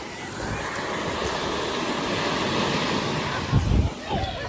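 Big ocean waves crash and surge at a beach, a steady roar of surf with wind noise on the microphone and a louder heavy wave breaking near the end.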